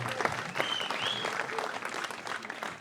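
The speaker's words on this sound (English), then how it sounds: "I don't want any applause for that." Audience applause at a dad's speech, a steady clatter of clapping filling the room at moderate level, with a faint whistle or voice tone rising briefly over it.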